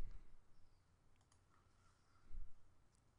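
A computer mouse clicking on folders, a few faint sharp clicks at uneven spacing against a quiet background, with no talking.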